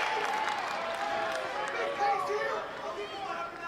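A college wrestling dual crowd at an NCAA match roars and chants for a stall call, a dense, continuous wash of voices and shouting with a commentator talking over it.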